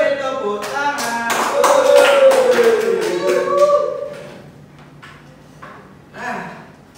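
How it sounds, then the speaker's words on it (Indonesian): Schoolchildren in a fourth-grade classroom clap together in a brief burst with children's voices mixed in, then the room goes quieter, with a few scattered claps and one last small burst near the end. "Beri tepuk tangan."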